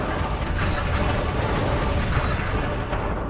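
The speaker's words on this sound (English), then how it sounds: "You've got to try and run before the explosion catches up to you." Video game explosion in a Tomb Raider level editor custom level: a continuous, dense rumbling roar of blast and debris at steady moderate loudness, with no talk over it.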